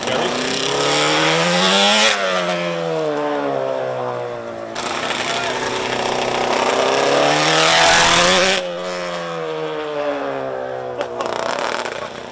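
Yamaha TZ750 four-cylinder two-stroke racing motorcycle screaming past at high revs, rising and falling as it accelerates and shifts, very loud and near throughout, with a brief cut between passes.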